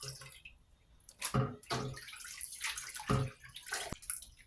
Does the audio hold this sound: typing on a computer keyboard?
no